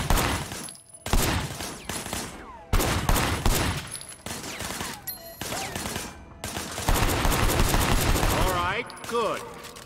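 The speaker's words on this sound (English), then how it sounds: "I want you to put some bullets in a few things." Repeated bursts of gunfire in the video game Sleeping Dogs, loud and close, with heavy automatic volleys broken by short gaps and spent-casing clinks.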